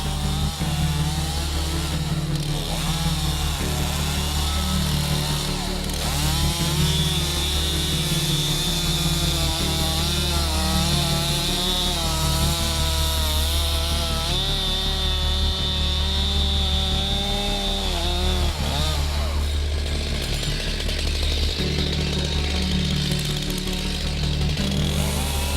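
A chainsaw cuts through timber with wedges set in the kerf, its engine droning loud and continuous at close range, the pitch rising and falling as the bar works through the wood.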